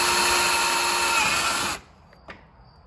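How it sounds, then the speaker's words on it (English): A power drill bores a small hole through a Depo P36 headlight housing, a loud, steady close-up whine that runs for nearly two seconds and then cuts off, leaving a quiet click afterward. "You're gonna drill a little hole."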